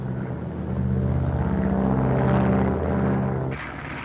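A radio-controlled propeller airplane's engine drones loudly and steadily overhead, swelling slightly in the middle before dropping in pitch and level near the end.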